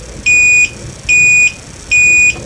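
A battery diagnostic kit's shunt gives three identical electronic beeps, each about half a second long and evenly spaced. They are loud and steady and sound alone, with no talk, and go off when too much current flows.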